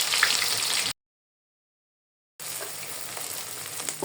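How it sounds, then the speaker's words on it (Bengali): Chopped onion frying in hot oil with cinnamon, cloves and cardamom, a steady broadband sizzle that cuts out to silence for about a second and a half, then returns just as dense. "ভালো করে আমি পেঁয়াজটা ভেজে নেব।"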